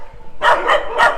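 Dogs at the Soi Dog Foundation shelter in Phuket give three quick, loud barks close by after a short quieter lead-in.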